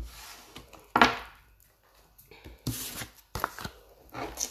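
Tarot cards are shuffled by hand at close range for a reading, in short irregular papery bursts with quiet gaps between them.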